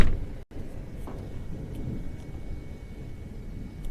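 Constant thunder during a Kansas storm with derecho winds possible, a low continuous rumble rolling on from a distance, with a faint gusty, rainy background and no voices.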